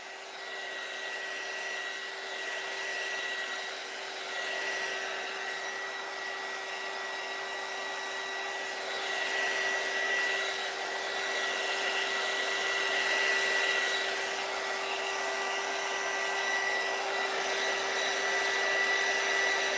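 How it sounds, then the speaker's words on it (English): A heat gun blowing on a painted wooden Christmas sign, a steady, loud airy whoosh with a constant motor hum running unbroken throughout. "I'm gonna hit that with the heat gun"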